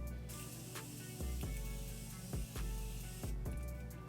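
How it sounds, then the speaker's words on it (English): Setting spray is misted onto a face in a makeup routine. Faint, quick hissing spritzes come in short clusters against a quiet room, with no talking. "I'm just going to douse my face in some setting spray"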